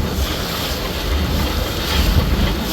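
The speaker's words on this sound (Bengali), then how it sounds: "দুইটা দামড়া দামড়া ডাইহারসু ইঞ্জিনের পতর পতর ভতর ভতর আওয়াজ দিয়া আমাদেরকে ওভারটেক করে যাইতেছে" Diesel engines of two passenger launches overtaking on a rough river make a deep, steady rumbling drone under rushing water and wind noise.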